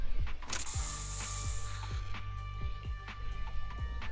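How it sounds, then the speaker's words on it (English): Special bamboo spray hisses in the video game Zenless Zone Zero, a loud bright spray burst near the start, followed by a rapid series of clicking ratchet-like mechanical ticks over a faint hum. "Here, have a taste of this special bamboo spray."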